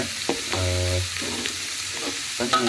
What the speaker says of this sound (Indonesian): Ini kita masak dulu sebentar hingga lebih layu ya, karena kalau wortel itu dia masaknya sedikit lebih lama